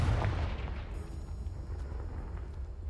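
A Confringo blasting spell goes off in a video game with a heavy, booming explosion at the start, its low rumble trailing off into a sustained hum.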